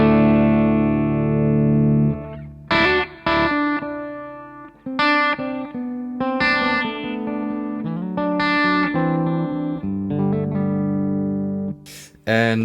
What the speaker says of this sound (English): I let you guys hear the bridge pickup of my Les Paul into my Revv D20 first.